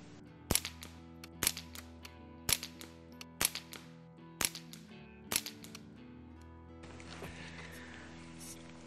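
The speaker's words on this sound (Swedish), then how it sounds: "men vi kör några skott" Six sharp .22 rifle shots with CCI standard velocity ammunition, fired outdoors at a range, spaced roughly one second apart, each a crisp crack with a short decay over a low steady hum, followed by faint rustling.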